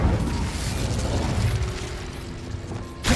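Incendio fire spell cast in the video game Hogwarts Legacy, a loud sustained whooshing roar of flame with booming bursts that run continuously and cut off abruptly at the end.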